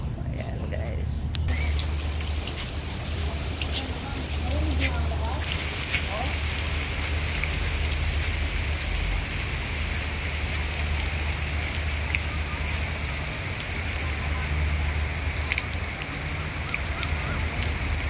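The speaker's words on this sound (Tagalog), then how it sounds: "ang lakas ng ulan" Heavy rain pours down at Tsing Yi Northeast Park, Hong Kong, in a dense, continuous hiss with a low rumble, loud and unbroken throughout, with faint voices under it.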